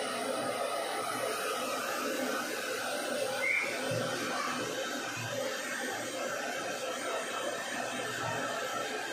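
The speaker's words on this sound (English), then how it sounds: "i-dryer daw para hindi sila sipunin" A hair dryer blows steadily on freshly bathed wet dogs, a continuous airy whir at moderate distance, with faint chuckling and soft voices underneath.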